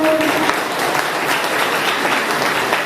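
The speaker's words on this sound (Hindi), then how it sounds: "एक बार इनके लिए ताली बजा लो" Steady applause from an audience at a seminar in Balrampur, a continuous dense burst of clapping filling the whole moment with no pauses.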